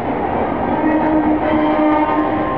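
A high-speed train passing through Mathura Junction, a loud continuous rushing roar of wheels and carriages close by, steady for the whole stretch with no talk.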